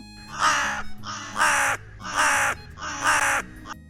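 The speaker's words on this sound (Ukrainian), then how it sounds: "Це ж ворона." A crow caws loudly and close by, four harsh calls in a steady rhythm with short gaps between them, against a quiet background.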